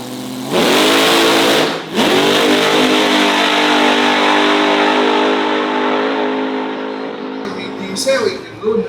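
A drag racing car in Thailand roars loudly in a sustained engine blast, briefly dipping and surging again, then holding a strained high note for several seconds before cutting off. A brief stir of other sounds follows.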